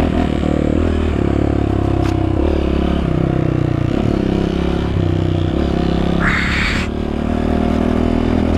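A Honda CRF 230 dirt bike runs loud and close on a trail, its engine droning and shifting pitch as it works over rough ground, with clattering and scraping along the way.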